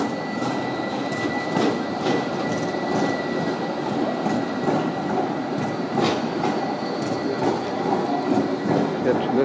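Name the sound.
Bielefeld Stadtbahn tram line 3 running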